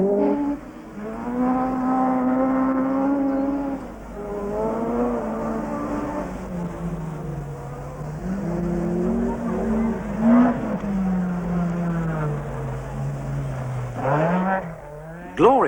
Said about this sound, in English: Jimmy Ray in the Audi.